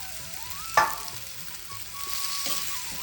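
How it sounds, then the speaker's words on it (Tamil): Wheat semolina frying in hot ghee in a kadai, with a sharp clatter as it goes in, then a steady close sizzle with a brief scrape near the end. "இந்த கோதுமை ரவையை வந்து இதில் நம்ம போட்டலாம் கடாயில்"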